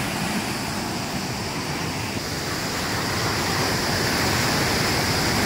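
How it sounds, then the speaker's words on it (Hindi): Water rushing out from beneath an old colonial-era dam on the Ganga canal, a loud, dense, unbroken roar of churning flow that holds steady throughout with no voices. "आवाज़ से आप अंदाजा लगा सकते हो कितनी तेजी से पानी निकल रहा है नीचे से"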